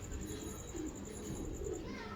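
A Sialkoti pigeon, a black-faced bird, coos softly in short low murmurs under a faint high steady tone, with quiet background noise throughout.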